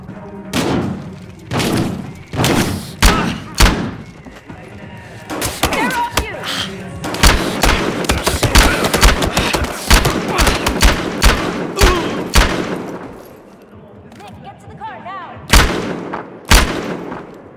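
Gunfire in the video game Battlefield Hardline: loud, close bursts of rapid shots and heavy booming reports, repeated in clusters with short pauses, along with occasional game voices.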